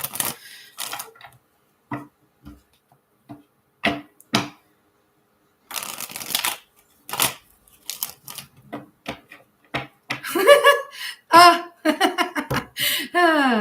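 Sharp tarot card snaps and short shuffling bursts, close by, followed by a person laughing and talking over further card handling.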